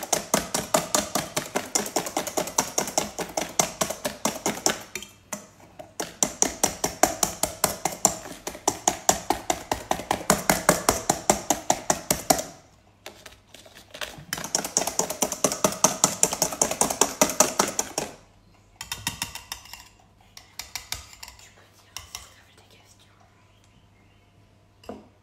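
Sugar, egg and vanilla whisked in a bowl in rapid rhythmic strokes, close and steady in long runs broken by short pauses, then slower intermittent stirring toward the end.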